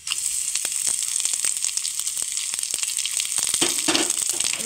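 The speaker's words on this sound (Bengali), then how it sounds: "রসুনটা একটু ভাজা ভাজা হবে।" Garlic and curry leaves frying in hot oil in a pan for idli-dosa chutney, giving a steady, loud, close crackling sizzle with intermittent pops and stirring clinks throughout.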